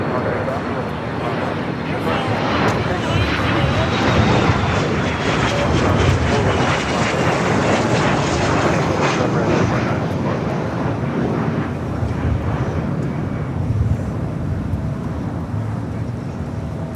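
Jet airliners take off one after another at LAX, a loud sustained roar of engines that swells and fades with wind buffeting the microphone.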